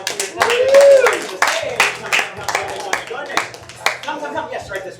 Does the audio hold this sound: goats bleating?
no